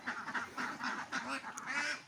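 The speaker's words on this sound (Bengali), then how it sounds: "দেখেন সুন্দরভাবে হাঁসগুলো কিন্তু বেরোচ্ছে" Khaki Campbell ducks on a farm quack in a steady, overlapping chorus of nasal calls, several birds close by and fairly loud throughout, with no talking.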